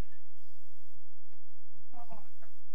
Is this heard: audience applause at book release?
no